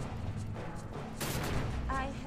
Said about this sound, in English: Wow, an explosion trap killed my ass.